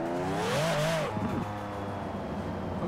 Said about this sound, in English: Turbos sound pretty damn nice.